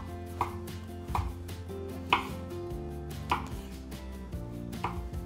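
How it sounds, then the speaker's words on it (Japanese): A knife slices king oyster mushrooms (eringi), halved lengthwise, into thin pieces on a cutting board, with five distinct chopping knocks spaced about a second apart over a steady low background hum. "エリンギはね、長さ半分にして薄切りにしていきます"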